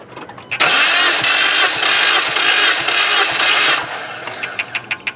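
A 2016 Jeep Patriot 2.0 engine with cylinders 3 and 4 misfiring is cranked on the starter during a compression test, giving a loud, steady rhythmic whirring for about three seconds before it stops, followed by faint clicks.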